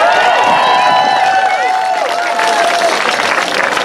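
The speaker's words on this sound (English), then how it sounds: "Let's give another round of applause to all of our wonderful speakers." Steady crowd applause for speakers at an outdoor Pride celebration in Monterey Peninsula, a dense continuous wash of clapping with scattered cheers and voices woven through.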